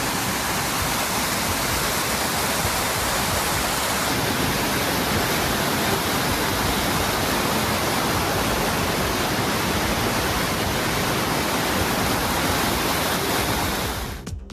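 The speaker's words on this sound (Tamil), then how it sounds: "திருப்பதியில் கொட்டிய மழையால் மலைப்பாதை படிக்கட்டுகளில் தண்ணீர் ஆர்ப்பரித்து கொட்டியது" Rainwater gushes down the steps of a hill path at Tirupati during a heavy downpour, a dense, loud, unbroken roar of rushing water throughout.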